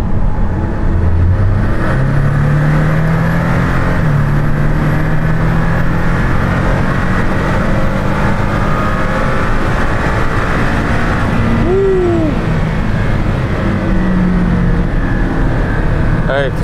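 A Porsche Cayman GTS engine drones and rises in pitch as it accelerates, heard loud from inside the cabin with steady road roar, while someone talks over it.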